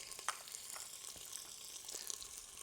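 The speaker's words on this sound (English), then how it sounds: "We'll start with the bacon here. Get in there, starting to sizzle already." Bacon sizzles quietly in a hot pan, a soft steady crackle with scattered sharper pops.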